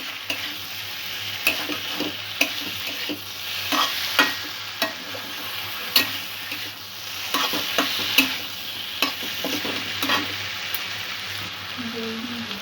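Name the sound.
frying and stirring sweet potato with spices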